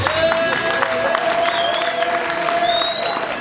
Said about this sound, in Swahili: Mbona wale wanashangilia kwa nini?